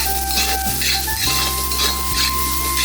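Spices, onion and tomato for soya bhurji sautéing in a pan, with a spatula scraping and clinking against the metal over a soft steady sizzle, with no talking.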